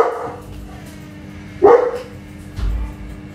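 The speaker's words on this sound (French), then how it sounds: "Et le chien qui arrête pas de gueuler." Indoors, a dog gives a few sharp, loud barks at irregular moments, standing out close by over a quiet room.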